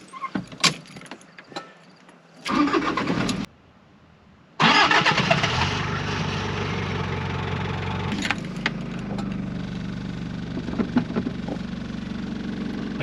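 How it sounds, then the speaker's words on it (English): A 1995 Toyota Hiace DX 4WD van with the 3-liter 1KZ turbo diesel cranks briefly, pauses, then catches and settles into a steady, loud idle with a few clicks over it. No one speaks. "So let's fire up the engine."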